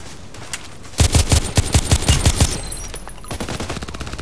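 Weapon gunfire in the online shooter Contract Wars: a loud, close burst of about a dozen rapid automatic shots, then a quieter, faster rattle of fire trailing off.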